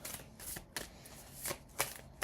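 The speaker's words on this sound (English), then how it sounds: "these are the Healing Spirit cards by Gordon Smith" A deck of Healing Spirit oracle cards is shuffled by hand, soft close riffling bursts repeating every half second or so, quiet and without talk.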